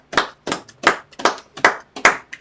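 Slow, rhythmic clapping at a Sabbath service, about eight loud, distinct claps in a steady beat, close and clear with no talking.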